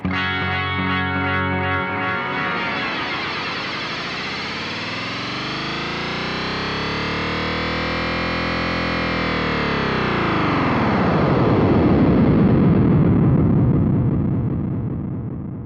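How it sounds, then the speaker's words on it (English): A BOSS RE-202 Space Echo in mode 2 produces a loud, dense wobbling texture that swells and builds steadily, then bursts into a distorted, explosive wash before fading at the end. "it starts with some kind of like wobbling crap and then it built up and then there's a sort of explosion at the end"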